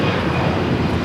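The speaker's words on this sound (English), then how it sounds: "523 taking off to San Salvador on the A320 in a Star Alliance livery" An Avianca Airbus A320 in Star Alliance livery roars on its takeoff run at LAX, bound for San Salvador, a steady, dense, loud engine rumble filling the whole moment.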